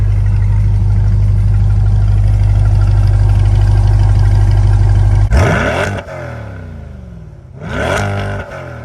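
A C8 Corvette engine with an aftermarket exhaust idles loudly on a cold start with a deep, rumbling exhaust, then revs sharply twice in quick bursts.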